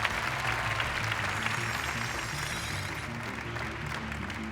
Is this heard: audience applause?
yes